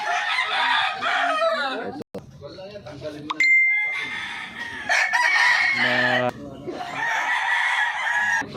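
Chickens and roosters of prized breeds crow and cluck loudly and close by, with a long crow rising over steady clucking while people talk throughout.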